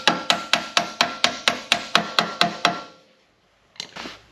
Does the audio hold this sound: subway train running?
no